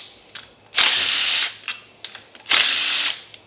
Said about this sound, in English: Start removing all these screws.